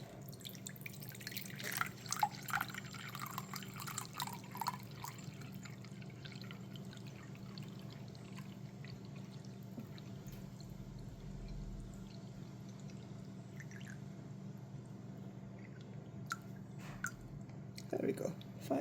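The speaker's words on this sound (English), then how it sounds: "next I'm going to take the distilled water" Distilled water trickles and drips into a container on a scale for soap making, producing faint, intermittent splashes and clinks over a steady low hum, quiet and close.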